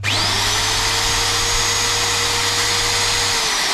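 A repaired magnetic drill runs loud and steady, a constant motor whine with a high hum that holds throughout.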